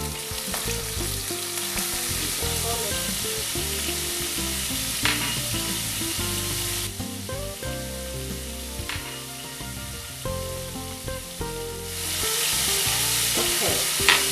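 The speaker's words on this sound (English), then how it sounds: "give it a good stir and fry this for a few minutes" Chopped onion, garlic and ginger sizzle and fry in a pan, a loud continuous crackling hiss with occasional scraping stirs throughout.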